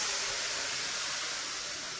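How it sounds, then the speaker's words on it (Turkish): Syrup hits hot roasted halva in the pan, producing a loud, steady steaming hiss that runs unbroken and alone throughout. "Ben helvamın suyunu şimdi vereceğim arkadaşlar artık."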